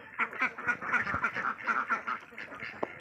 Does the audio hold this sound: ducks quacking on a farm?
yes